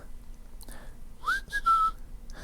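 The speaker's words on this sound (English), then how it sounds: "I learned how to whistle like a ventriloquist" A few short ventriloquist-style whistled notes, a quick rising chirp followed by a held tone, fairly soft against a quiet room hum.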